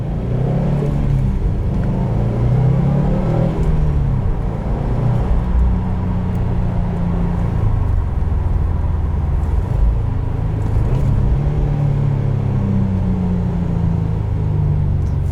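A 2018 Subaru WRX STI's engine drones steadily from inside the cabin while driving, a loud continuous rumble with rising and falling revs and no talking.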